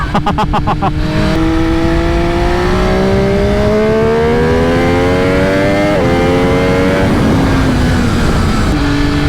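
2020 MV Agusta F3 800 RC motorcycle, 800 cc, engine revving loudly and close, its pitch climbing steadily through a long pull, dipping briefly, then rising again before easing off.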